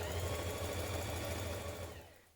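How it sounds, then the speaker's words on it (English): A sewing machine stitches the central back seam of a summer dress skirt, its steady whirring motor hum running close and continuous before trailing off at the end. "place your two back skirt panels together and stitch the central back seam with a"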